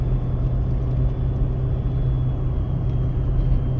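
A Ford 6.7 Powerstroke diesel truck with a compound turbo kit towing a trailer loaded with about 13,000 pounds of rye seed, giving a steady, loud low engine rumble and drone heard from inside the cab without pause.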